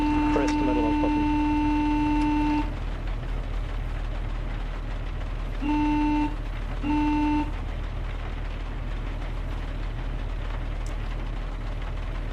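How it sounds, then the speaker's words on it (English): In-game vehicle horn in ARMA Reforger, a steady tonal blare held for about two seconds, then two shorter honks later, over low engine rumble and game background noise. "Can you hear the horn beeping as well?"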